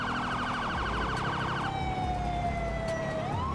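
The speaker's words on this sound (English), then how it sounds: "He turned on his siren, too." A police motorcycle siren wails in the GTA 5 video game, first as a fast warbling yelp and then as a long steady tone that climbs again at the end. It sounds loud and close over a rumbling engine, with no talk.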